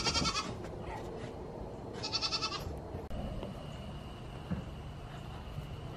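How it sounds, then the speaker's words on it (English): Goats bleat a few times at moderate distance, short wavering cries in two bursts over a steady outdoor background hum. "My goats want their dinner."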